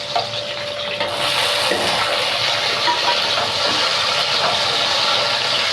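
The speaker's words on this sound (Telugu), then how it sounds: "ఇప్పుడు టమాటాలు వేసుకోవాలి" Tomatoes hitting a hot pan of frying green chillies for a tomato and cucumber chutney, a sudden loud, steady sizzle that swells and keeps going without pause.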